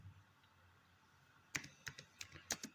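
A computer keyboard typed on in short bursts of crisp key clicks, starting after a quiet stretch, close and fairly soft with no speech.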